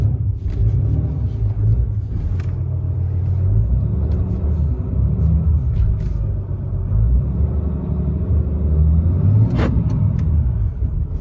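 A pickup truck rumbles loudly across beach sand with traction control off, its engine droning low and steady with slight swells as it pushes along, plus a brief knock or two near the end.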